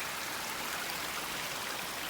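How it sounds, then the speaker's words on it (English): Creek water from a feeder stream of Gwin Creek flows downhill through a hillside, giving a steady, even rush of running water that stays constant and moderately distant throughout, with no voices. "Another feeder for the Gwin Creek down there."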